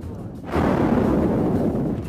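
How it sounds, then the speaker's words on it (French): A sudden loud, rumbling volcanic explosion from the La Palma eruption erupts after a brief quiet moment, then continues as a sustained roaring, crackling blast. "on entendait des explosions"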